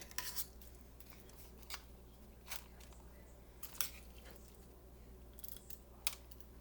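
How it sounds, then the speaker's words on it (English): A metal spoon scoops a sticky gelatin-and-birdseed mixture into cookie cutters on a plate, making faint scraping and crunching ticks at irregular intervals over a quiet background. "I'm going to scoop it out with my spoon and put it into my cookie cutters on the plate"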